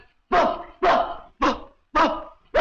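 A man imitates a dog barking, five sharp, evenly spaced woofs delivered close and loud with nothing else around them.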